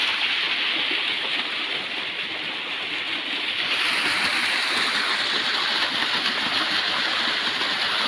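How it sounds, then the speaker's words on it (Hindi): A waterfall along the Narmada river route in Madhya Pradesh rushes in a steady, loud, broad roar of falling water, continuous and unbroken, with no voices. "झरना एकदम बह रहा है।"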